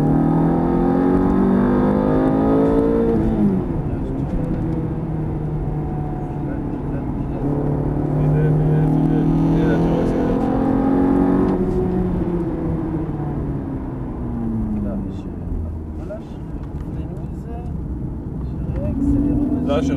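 A Ferrari F430 engine revs hard and climbs repeatedly in pitch as it accelerates, with dips between gears. Someone talks over the engine noise throughout.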